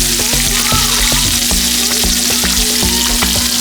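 Butter sizzles and fries steadily in a hot frying pan, a dense continuous crackle with occasional scraping knocks of a utensil, close and loud with no talking.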